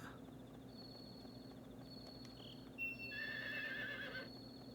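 In the Nintendo 64 farming game Harvest Moon 64, a horse lets out a short, bright, synthesized whinny over a quiet, steady background, followed by a light run of clip-clopping hoof steps.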